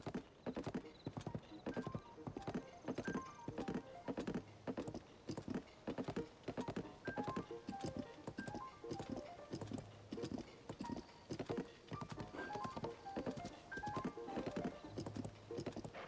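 Horse hooves clip-clop steadily in Zelda: Tears of the Kingdom, a fast rhythmic galloping beat running throughout, loud and close, with a brief whinny and no talk.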